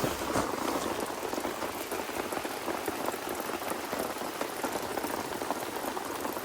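Steady rain pours down without pause in a forest, a dense continuous hiss of drops pattering on surfaces, fairly close and even in loudness throughout.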